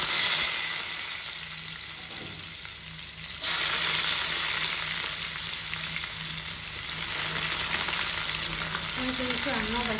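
Onion frying in a pan, a steady close sizzle and crackle that jumps louder partway through, with faint background voices near the end.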